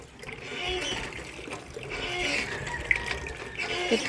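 Water from an electric pump pours steadily into a container at a rural home in Pangasinan, a continuous rushing, trickling flow heard up close with a few faint background sounds.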